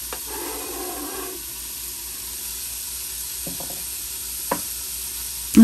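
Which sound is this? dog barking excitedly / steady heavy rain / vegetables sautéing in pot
vegetables sautéing in pot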